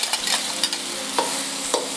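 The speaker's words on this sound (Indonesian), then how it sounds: "Bekas minyak telurnya kita masukin bumbu yang sudah di blender." Blended spice paste frying in leftover egg oil, a constant loud sizzle with a few light stirring scrapes and clicks, heard alone.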